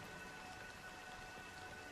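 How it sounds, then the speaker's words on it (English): Steady rain falls in a scene from the video game Honkai: Star Rail, a dense, even hiss of drops on surfaces that holds at the same level throughout, with no voices. "But it's still raining."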